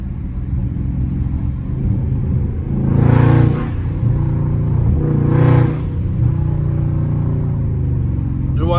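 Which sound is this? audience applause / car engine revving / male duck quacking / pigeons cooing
car engine revving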